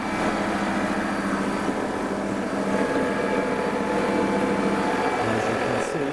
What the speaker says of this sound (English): Engine is running and purring and sounding good.